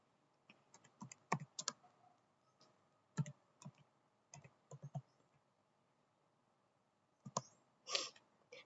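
Computer keyboard typing at a desk, entering switch configuration commands: quiet, close bursts of key clicks in short runs separated by pauses, with a louder cluster near the end.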